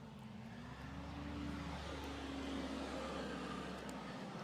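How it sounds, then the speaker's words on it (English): Vehicles pass on a road beside the golf course at Southern Hills, a low steady engine drone with a rising and falling tone from a passing car or truck, moderately distant and without talk. "So if you hear cars and trucks, it's that."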